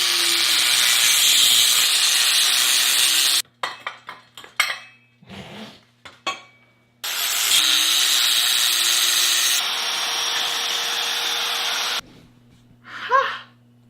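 A metal tube being cut during a fabrication job for a three-wheeled bicycle, with long steady bursts of loud grinding-wheel noise broken by shorter clattering, knocking handling sounds between cuts.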